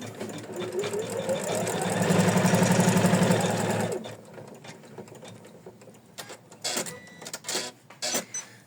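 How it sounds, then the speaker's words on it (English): An embroidery machine stitches a placement line in a fast, loud, steady chatter for about four seconds, then stops, leaving sparse clicks and handling noises. "And we stitch the placement line."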